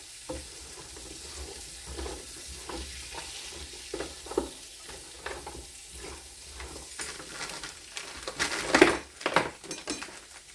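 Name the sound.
food frying and being stirred in bacon fat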